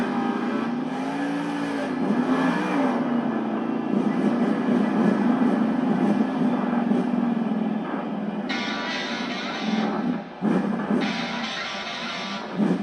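Grave Digger, the black and green monster truck, idles and revs its engine while lining up on 8-pack tires in an arena at Monster Jam, a loud steady drone with rising and falling pitch under crowd roar.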